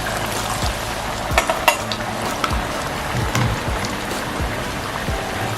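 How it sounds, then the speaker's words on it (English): Chin chin dough fries in hot oil, a dense crackling sizzle like rain on a surface, broken by scraping stirs and light clinks of the spoon against the pot. "you have to start stirring immediately to avoid burning"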